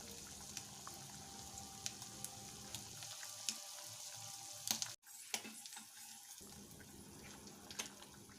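Spicy sardine fish curry with drumstick pieces simmering in a pot, a faint soft bubbling and hissing with scattered light pops and ticks, one brief sharp knock midway, no voices.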